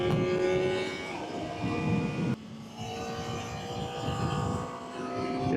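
A Kawasaki ZX sport motorcycle engine drones steadily and loudly while riding, with a brief dip midway as if shifting gear before the revs pick back up.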